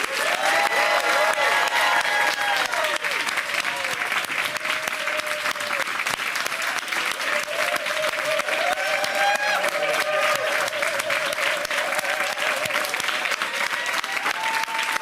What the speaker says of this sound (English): giving them the biggest applause they ever got